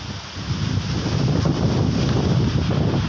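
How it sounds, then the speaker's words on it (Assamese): Strong stormy wind roars and buffets steadily for the whole stretch, a loud continuous rushing with gusty rumble, no rain or voices. "ইমান ধুমুহা দিছে। বতাহ আৰু বতাহ"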